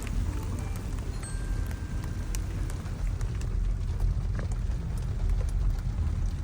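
Heavy rain drums steadily on a moving car, a dense unbroken hiss and patter that stays loud and even throughout with no voices.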